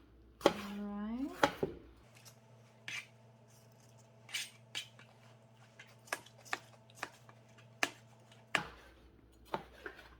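A knife cutting seeds out of a cucumber, a scatter of soft, crisp cuts and scrapes at uneven intervals over a low hum, close but quiet, no talk.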